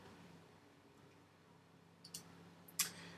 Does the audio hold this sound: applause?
no